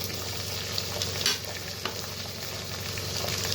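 Cauliflower, carrot and peas stir-fry in a pan for Maggi, a steady close sizzle of oil with soft scraping and clinks of stirring over it, no voices.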